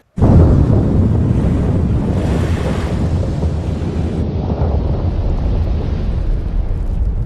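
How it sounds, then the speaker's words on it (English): A continuous deep, broadband roar with rumbling low end, a Strombolian eruption blast at Krakatau heard through wind buffeting the microphone, steady for several seconds. "it is just a regular Strombolian blast"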